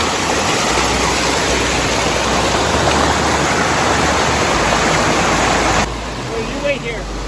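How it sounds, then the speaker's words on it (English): Waterfall on a creek on Mount Katahdin during rain, a loud, continuous rushing roar of falling water close by that suddenly drops to a softer level near the end, where faint voices can be heard. "It's literally just climbing a waterfall."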